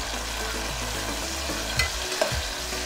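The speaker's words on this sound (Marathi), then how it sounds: "मिरच्या टाकून फिरायचा." Green chilies and onion fry in hot oil for a vegetable pulao, giving a loud steady sizzle with a few soft scrapes and knocks of the stirring utensil, close up and without any talking.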